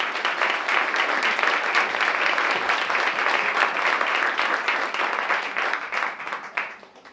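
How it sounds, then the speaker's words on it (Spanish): A church congregation applauds together during a sermon, a dense steady clapping from many hands that holds for several seconds and then tapers off. "Dale un aplauso al Señor."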